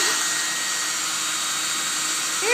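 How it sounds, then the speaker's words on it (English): A hair dryer runs steadily at close range, a loud, even airy whoosh with a faint whine throughout, briefly rising in pitch right at the end; no voices. "You got the hair dryer."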